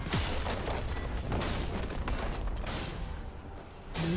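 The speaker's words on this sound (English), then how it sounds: "Blue team's turret has been destroyed." A turret is destroyed in League of Legends, with deep rumbling booms and bursts that swell and fade over several seconds amid busy battle noise.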